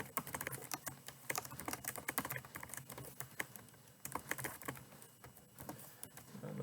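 Rapid, uneven clicking of typing on a computer keyboard, faint and close, with bursts of keystrokes and brief pauses and no talk over it.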